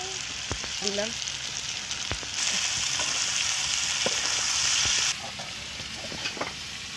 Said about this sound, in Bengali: ভালো করে একটু নেড়ে নেবো। উচ্ছে আলুটা একটু ভাজা ভাজা মতন করে বানিয়ে করে নেবো